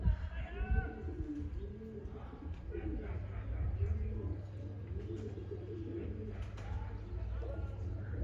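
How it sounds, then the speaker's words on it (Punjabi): Pigeons coo in low, throaty bursts that repeat over a steady rumble, with faint chirps and some voices in the background. "ਕਬੂਤਰ ਗੁੜਕਦੇ ਆ ਨਾ ਅੰਦਰ"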